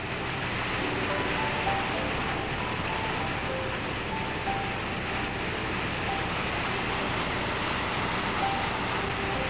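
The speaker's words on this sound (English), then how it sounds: "we can see the rain on the pond" Steady rain falls on a pond outside a bedroom door, heard as an even, broadband hiss of drops that continues without letup, with no voices present.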